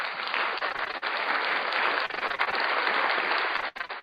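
Steady, dense applause from many hands fills the whole stretch, a broad even wash of clapping with a brief dip near the end, no voices over it.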